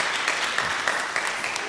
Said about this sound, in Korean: 우리 그 발걸음이 축복되도록 우리 박수로